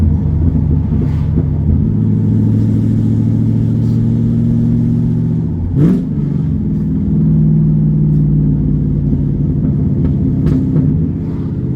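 A straight-piped Camaro engine with no catalytic converters revs and rumbles loudly, with a sharp crackle of exhaust pops partway through as the revs drop.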